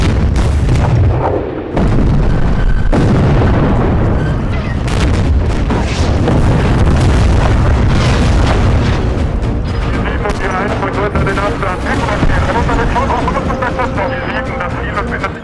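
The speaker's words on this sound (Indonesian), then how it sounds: "Setelah mendapat koordinat musuh, artileri Uni Soviet mulai menyerang tentara Jerman." Soviet artillery pounding German troops in a World War II battle film: dense, continuous booms and blasts roll over a thick rumbling soundscape at close range for the full stretch, with speech mixed in under the barrage.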